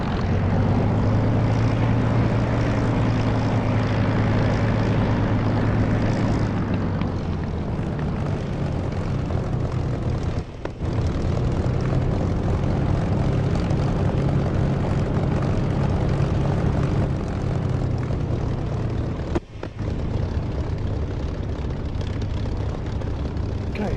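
A propeller aircraft engine in a flight simulator game roars at takeoff power, a continuous loud drone that shifts in pitch partway through, with faint voices under it.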